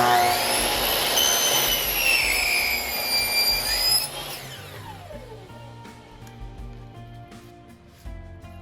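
A power saw cuts the end off an engineered hardwood flooring board, a loud high whining rip that spins down abruptly halfway through, followed by quieter handling noises and a thud.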